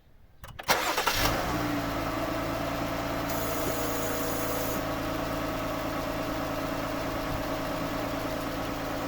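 A warm car engine cranks and catches, then settles into a steady, close idle with a brief rise in revs partway through.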